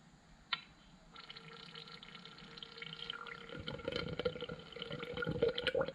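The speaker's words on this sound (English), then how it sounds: "So now we get to fill it up with oil." Fork oil poured from a new 16-ounce bottle into a fork tube on a 2014 Honda CRF150R, close and quiet, starting with a light clink then a growing gurgling trickle that gets fuller and bubblier.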